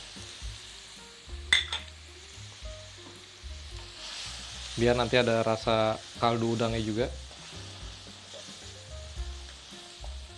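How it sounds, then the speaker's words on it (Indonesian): Shrimp sizzle steadily as they are stir-fried in a hot pan with a little added water, with a few utensil clinks and scrapes while a person talks over the cooking. "sambil menumis udangnya saya tambahkan sedikit air untuk proses lebih cepat matangnya udangnya"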